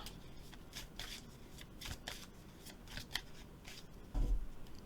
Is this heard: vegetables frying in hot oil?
no